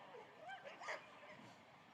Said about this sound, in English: One of those dogs is just getting a little bit excited about being in such a public environment.